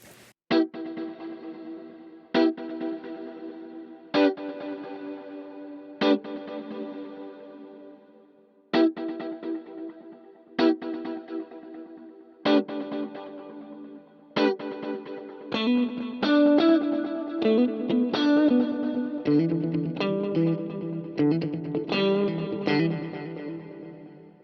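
Plex delay plugin with diffusion reverb at 50, repeating percussive hits trailing into echoes that build into a dense, washy tail, loud and alone with no voices.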